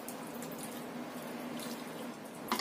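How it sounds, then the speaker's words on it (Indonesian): Water runs and splashes as half-cooked tempeh is drained in a strainer, a continuous close rushing flow with a brief louder splash near the end. "Kemudian kita tiriskan tempenya, kita saring."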